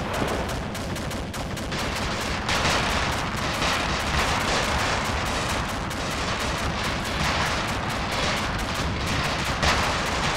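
Explosions strike an infantry fighting vehicle in the video game ArmA 2, heard as a dense, continuous roar of blasts and crackling fire that stays loud and steady the whole way through.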